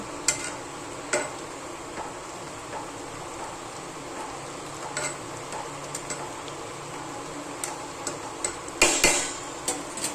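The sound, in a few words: stirring fenugreek (methi) bhaji in a pan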